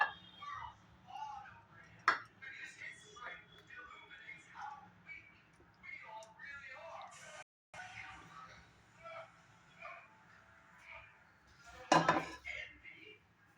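Cooked tak jhal fish curry with olives is moved into another dish, giving soft clinks and scrapes of a spoon against pots and plates under continuous talking.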